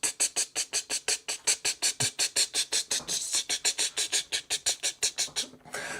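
A small toy or gadget meant to mimic a lawn sprinkler gives a rapid, even run of sharp ticking bursts, about four a second, close and fairly loud, without talk.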